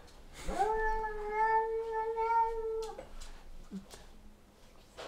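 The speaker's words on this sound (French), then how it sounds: "On a une petite guerre chat-chien en ce moment" A cat lets out one long, drawn-out yowling meow lasting a couple of seconds, loud and close, during a cat-and-dog squabble at home. Quieter scuffling and faint rustling follow. No clear talk.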